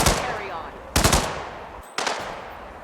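Gunfire at a shooting range in the video game Hitman 2: a few loud, sharp shot bursts spaced about a second apart, each cracking out over a noisy background and decaying briefly.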